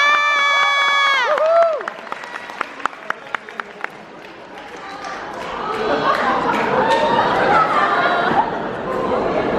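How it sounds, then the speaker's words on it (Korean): Wedding guests in a Korean hall start with a few scattered claps after a sustained tone, then a swelling din of cheering, chatter and applause builds, with voices mixed throughout. "큰 박수 부탁드리겠습니다"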